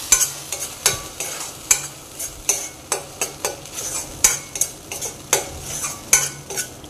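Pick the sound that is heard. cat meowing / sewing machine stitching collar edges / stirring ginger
stirring ginger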